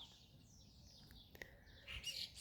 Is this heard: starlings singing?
yes